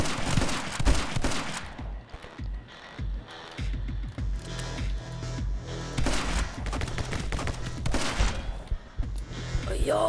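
Shotgun blasts in the action game My Friend Pedro ring out as a dense volley of loud, booming shots, with clustered bursts at the start, middle and end over steady game noise, and a little voice in places.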